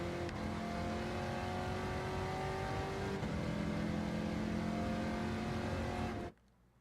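A race car engine in Gran Turismo 7 holds a loud, steady high-revving drone during the first lap, then cuts off abruptly near the end.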